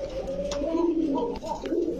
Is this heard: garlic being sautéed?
no